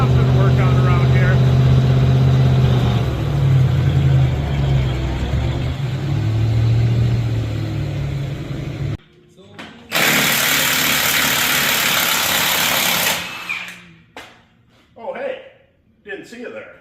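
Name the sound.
lifted manual Chevrolet Suburban truck engine running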